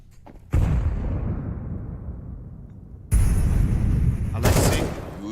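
Counter-Strike 2 match at the PGL Copenhagen 2024 Major, with two sharp gunshot bursts from a scout sniper rifle snapshot, each followed by a long decaying echo, close and loud with nobody talking.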